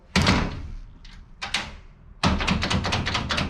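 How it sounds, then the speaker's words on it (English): A metal screen door, just repaired at its lock mechanism, bangs shut and latches with a cluster of clattering knocks and rattles, followed by a burst of rapid mechanical clicking and tapping. "Test out the door."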